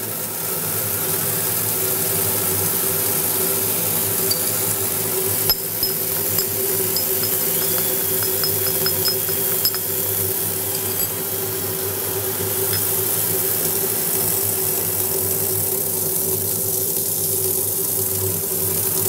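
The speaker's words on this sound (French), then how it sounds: "vous avez une trompe à eau qui va créer le vide" Water aspirator pump on a lab tap pulling a vacuum for filtering aspirin crystals in an organic chemistry practical, a continuous rushing water hiss with a steady hum and a few faint clicks.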